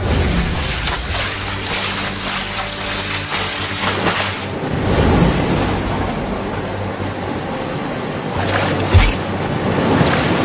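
Heavy cartoon rain and rushing flood water make a loud, continuous roar with wave-like swells, shifting midway and surging again near the end, with no talk.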